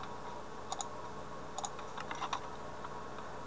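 Sparse, quiet computer keyboard keystrokes while entering quest text for a Minecraft Custom NPCs mod, a few scattered clicks and short bursts over a soft steady background hiss.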